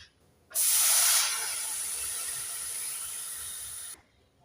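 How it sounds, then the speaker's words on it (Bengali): Water poured onto semolina roasted until reddish in a hot pan bursts into a loud, close hiss of steam that starts suddenly, holds steady for about three seconds, then cuts off. "সুজিটাকে আমি লাল লাল করে ভেজে নিয়েছি এবার দিয়ে দেব জল"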